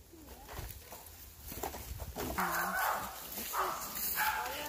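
A dog barks in short bursts on an outdoor trail, moderately close and mixed with rustling and movement.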